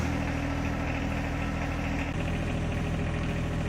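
A John Deere 1023E compact tractor engine idles close by in a steady, continuous low rumble with an even mechanical vibration throughout and no voices.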